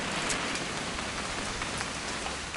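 Steady rain from the video game What Remains of Edith Finch, a dense, continuous hiss of falling drops with scattered louder patters, no voices over it.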